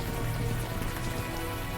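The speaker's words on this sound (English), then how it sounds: "the warm rain is coming down" Steady warm rain pours down in the video game Unavowed, a dense, even hiss of drops on surfaces that fills the whole stretch without a break, loud and close with no voices over it.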